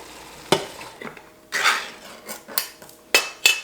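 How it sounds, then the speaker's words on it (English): Beans being scooped into a pot for pressure canning, heard as a series of sharp metallic spoon clinks and scrapes against the pot with soft wet shuffling between them, close and fairly loud. "I am going to scoop my beans in here"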